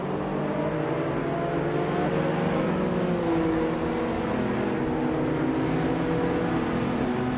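Multiple race car engines, among them a vintage BMW Z3, drone and rise together at Daytona Beach in a racing game, a loud, steady layered roar with shifting engine tones and no talk.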